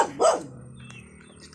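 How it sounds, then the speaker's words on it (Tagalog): A dog gives a single short, sharp bark at close range outdoors, followed by quiet ambient noise. "May aso pala dyan."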